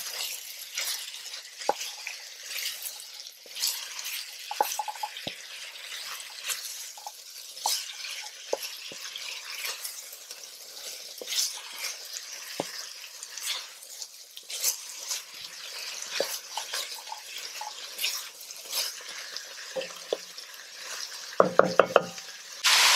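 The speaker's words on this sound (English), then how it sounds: "Stir it." Sweet potato, carrot and pumpkin for a Trinidad corn soup are stirred in a pot under a continuous sizzle, with scattered scrapes and ticks of the spoon and a short burst of clinks near the end.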